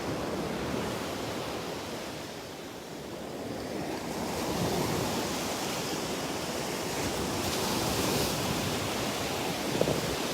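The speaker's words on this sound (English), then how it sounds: "This is why we don't like the rough surf." Rough ocean surf breaking on a Gulf beach at Delnor-Wiggins, a loud continuous roar of crashing waves swelling and easing, heavy with wind buffeting the microphone, no voices.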